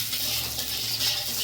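Curry leaves hiss and sizzle in hot oil in a pan, giving a steady bright crackle that runs unbroken and fairly close throughout.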